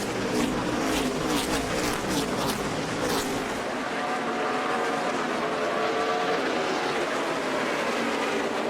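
NASCAR race cars roar past on the final lap at Bristol, a loud close engine blare with rapid pass-by bursts early on, then a sustained swelling drone of the pack under crowd noise.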